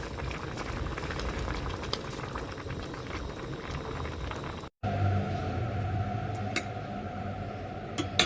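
Tilapia soup with mulberry leaves boils in a pot, giving a steady close bubbling and simmering hiss that continues without pause and without talk, apart from a brief dropout midway.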